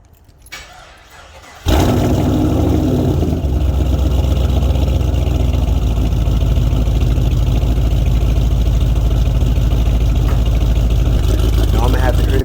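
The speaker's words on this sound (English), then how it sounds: "I'm gonna get y'all a cold start" A car's engine cold-starts after a brief quiet moment, then settles into a steady, loud, rumbling idle that continues close by for about ten seconds, with a voice talking over it.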